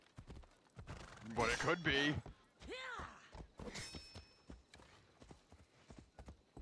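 Horse hooves clip-clop along at a walking pace in Assassin's Creed Odyssey while a person talks over them, with a brief whinny-like tone in the middle.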